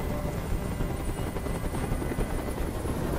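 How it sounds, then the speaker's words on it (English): A helicopter hovers close overhead, its rotor chop and engine whine forming a loud, steady, continuous roar. "Tell that helicopter to get out of here!"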